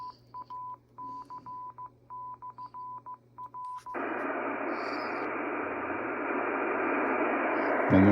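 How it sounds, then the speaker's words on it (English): Ham radio repeater tones on an ICOM 7000 transceiver: a run of short, evenly spaced dial-style beeps in quick groups, then a steady loud rush of static hiss that holds to the end. "Hear that repeater?"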